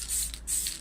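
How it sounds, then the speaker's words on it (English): A spray can undercoats a miniature model in two short hissing bursts separated by a brief pause, close and fairly quiet, with no voices. "I can spray and make sure I get underneath everywhere"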